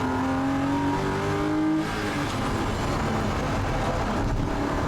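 A Porsche race car at Oulton Park circuit revs hard, its engine note climbing in steady pitch sweeps before easing into a rough, continuous roar near the microphone.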